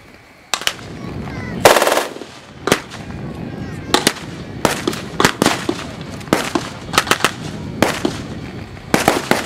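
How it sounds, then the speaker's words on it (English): An MG42 machine gun fires during a WWII battle re-enactment at a tank museum day, loud rapid ripping bursts coming in separate volleys with gaps between them, mixed with scattered single gunshots. "hear that fast gun down at the north end? That's an MG42."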